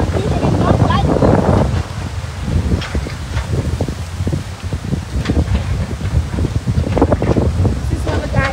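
Strong wind on a beach by a dark, rough sea buffets the microphone in loud, gusty roars, with faint rustling and surf beneath and a person talking over it.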